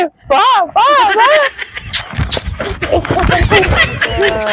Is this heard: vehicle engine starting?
yes